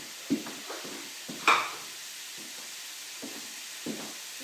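Rabbit meat fries in a pan on a gas stove, giving a soft, steady sizzling hiss broken by a few short low knocks and scrapes from the pan.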